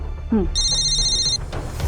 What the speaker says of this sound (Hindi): कांस्टेबल गीता का फोन था।